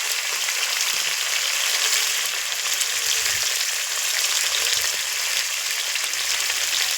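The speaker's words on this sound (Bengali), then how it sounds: "আমি সুন্দর করে মাছগুলো লাল লাল করে ভেজে নেব" Fish fry in a pan, giving a steady, loud, hissing sizzle that carries on without a break, with no talk over it.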